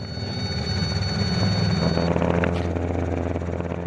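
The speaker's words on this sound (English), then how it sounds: "Just there you could hear the blade stall warning horn" A Robinson helicopter's blade stall warning horn sounds as a steady high-pitched tone over loud, continuous rotor and engine noise in the cabin, then cuts off about halfway through while the rotor roar carries on.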